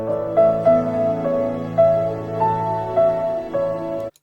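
A film theme playing from an audio file, a gentle piano-like melody of clear, evenly spaced single notes over sustained lower tones, steady and undisturbed for about four seconds.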